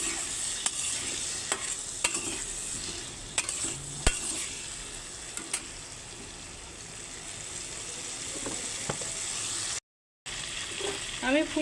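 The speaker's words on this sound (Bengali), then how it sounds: "লবণ দিয়ে দিচ্ছি, হলুদের গুঁড়ো দিয়ে দিয়েছি, দিয়ে এখন আমি আলুগুলোকে ভেজে নেব।" Potatoes frying with salt and turmeric, a soft sizzle under repeated scraping and stirring clicks of a utensil in the pan, with a brief gap of silence near the end; fairly quiet and close, no talk.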